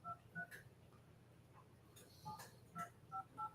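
A telephone keypad being dialed gives a quick series of short electronic tone beeps in irregular clusters, clear over a quiet background.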